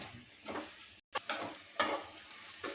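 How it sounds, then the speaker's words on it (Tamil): Mint leaves sautéing in a pan for mint chutney, with bursts of stirring, scraping and a low sizzle, close up, interrupted by a brief silent gap, with no talk. "புதினா தலையை நல்லா போட்டு அதை கூட சேர்த்து வணக்கிக்கலாம்"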